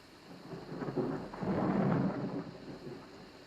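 A thunderstorm with pouring rain: steady rainfall hiss beneath a deep rolling thunder rumble that swells in the middle and slowly fades, with no voices.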